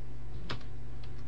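A command is typed on a computer keyboard for AutoCAD: a few soft, quick keystrokes click faintly over a steady low electrical hum.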